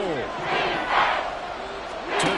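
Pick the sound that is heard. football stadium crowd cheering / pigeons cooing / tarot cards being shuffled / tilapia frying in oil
football stadium crowd cheering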